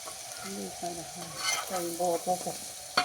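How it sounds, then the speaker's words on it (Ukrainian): Potatoes with button mushrooms sizzling and being stirred on a barbecue grill, a steady soft fry hiss with scraping stir strokes and a clack at the end, close and quiet. "Коли картошечка вже напівготова, додаємо гриби, шампіки в нашому випадку."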